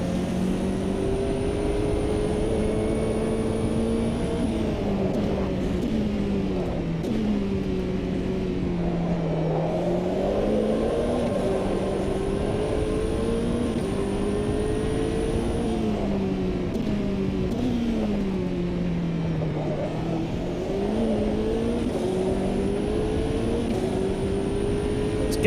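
A race car engine drones steadily on the banked track of a racing video game, its pitch rising and falling through repeated acceleration and gear changes, loud and continuous throughout.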